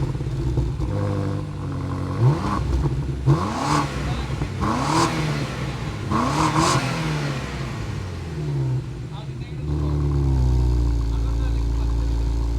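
A 7th-generation BMW M5 engine fires up and revs in a series of rising, throaty bursts nearby, then settles into a steady loud idle.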